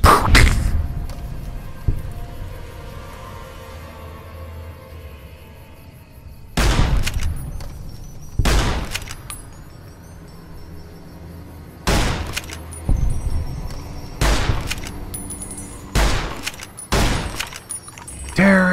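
Gunfire in the video game Fallout New Vegas: several loud, sharp shots come in separate bursts across the stretch, with quieter game ambience and occasional talk between them.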